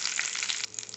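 Curry leaves crackle and sizzle in hot oil for a lemon pickle tempering, a brief, bright spitting hiss that drops off abruptly partway through, leaving a fainter frying sound.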